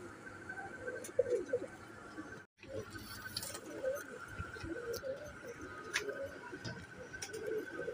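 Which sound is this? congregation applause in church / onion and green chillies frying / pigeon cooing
pigeon cooing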